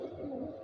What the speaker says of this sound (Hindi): ये भी कबूतर है जी